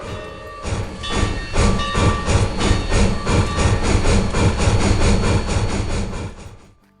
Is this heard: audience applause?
no